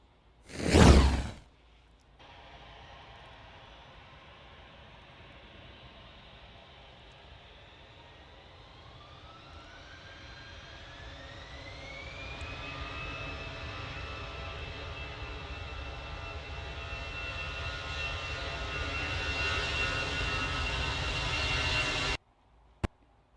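An airliner lands at Manchester Airport. A sharp thump at the start gives way to a steady engine roar that swells and rises in pitch, then holds loud and whining before cutting off abruptly. No one speaks.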